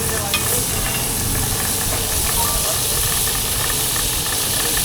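Butter sizzles and hisses steadily in a hot pan as roti cooks at a busy street stall in Thailand, a dense continuous frying noise with faint background bustle.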